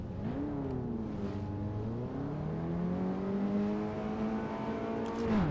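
An open-wheel racing car in a racing simulator, its engine droning and rising steadily in pitch as it accelerates from the start, with a constant whine running underneath.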